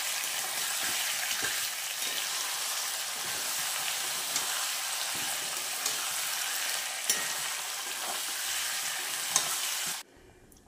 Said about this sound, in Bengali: তো জল ঢেলে দিয়েছি আর দিয়ে দিয়েছি কয়েকটা কাঁচা লঙ্কা